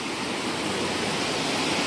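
A river pouring down a waterfall beneath a bridge into a deep valley makes a steady, even rushing roar that fills the whole moment without pause or voices.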